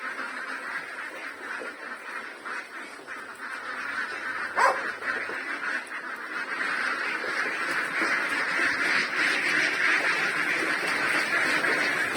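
A flock of ducks being fed crowd together in a continuous dense chorus of quacking and honking, which grows louder and busier partway through.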